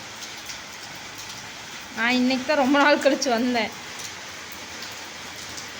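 Heavy rain hisses steadily throughout in a rural village, a dense wash of downpour noise, with someone talking briefly over it in the middle.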